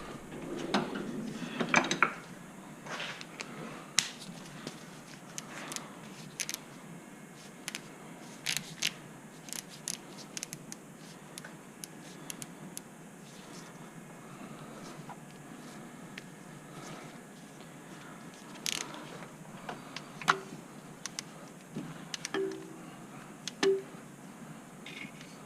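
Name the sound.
torque wrench tightening Chevy 4.3 intake bolts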